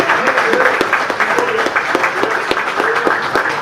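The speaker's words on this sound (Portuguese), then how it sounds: "Quem crê nisso aí, aplauda o nome do Senhor Jesus." A church congregation breaks into loud, sustained applause, dense clapping from many hands filling the room with a faint voice underneath.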